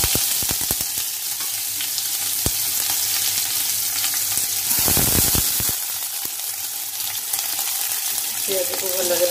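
Onions fry in hot oil during preparation of a raw jackfruit curry, a steady close sizzle broken by scraping stirs and a few clinks, with a louder burst of hissing midway.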